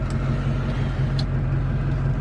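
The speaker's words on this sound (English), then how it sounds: "This truck, this is my engine noise alone." A Duramax diesel truck engine idles with a steady, low rumbling drone heard from inside the cab, even and continuous with no speech over it.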